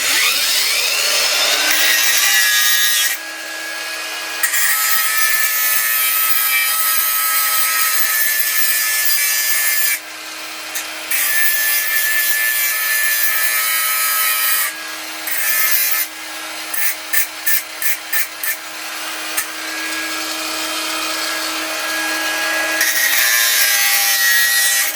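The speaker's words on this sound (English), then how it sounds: "I'll get my grinder, cut the tops off and round them into a point" Power grinder cutting and shaping the tops of bonsai wood into points, a loud, continuous abrasive whine with brief pauses and stuttering bursts as the tool bites and lifts off the wood, no voices.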